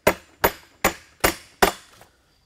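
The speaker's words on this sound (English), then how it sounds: "Take a hammer and just hit the opposite side." A hammer repeatedly strikes the end of a carriage bolt to knock it out: five loud, sharp metallic impacts in a steady rhythm about every 0.4 seconds, close up, with no talking.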